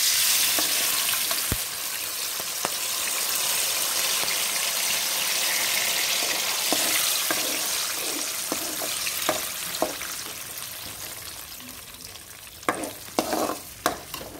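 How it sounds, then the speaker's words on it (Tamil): Cinnamon and cloves frying in a pan for kurma, a continuous close sizzle with stirring and scattered sharp clinks and scrapes of a spoon against the pan, with no talking. "பட்டை கிராம்பு போட்டேன்ப்பா"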